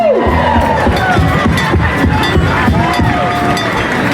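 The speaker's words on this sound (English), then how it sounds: "let's give them a nice round of applause" A dense outdoor crowd cheers and whoops at a Thanksgiving celebration parade in Plymouth, steady and loud throughout, with shouting voices and scattered clapping mixed into the din.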